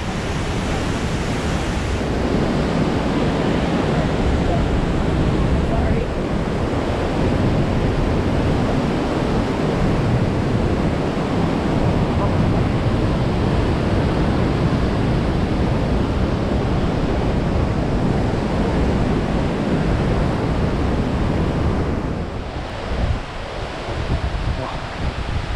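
A waterfall on the Yosemite Half Dome trail roars in a constant, loud wash of rushing water that holds for most of the stretch, with a slight dip and faint talking near the end.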